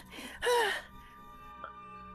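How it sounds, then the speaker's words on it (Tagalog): A person out of breath from running lets out one loud, breathy, voiced gasp at close range, followed by near quiet. "Hingal na hingal ka."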